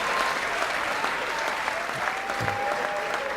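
A comedy-show audience at La Nuit du Rire 2018 breaks into applause: a dense, steady wash of clapping that holds evenly throughout without a break.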